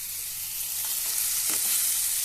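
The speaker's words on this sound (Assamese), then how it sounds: "মাছটো ধুনীয়াকৈ ফ্ৰাই কৰি ল'লোঁ" Fish frying in a pan for an Assamese fish and tomato dish makes a continuous bright sizzle, with a few soft scraping stirs partway through and no voices.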